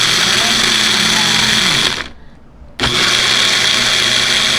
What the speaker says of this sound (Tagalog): Ayan, ngayon i-blender natin.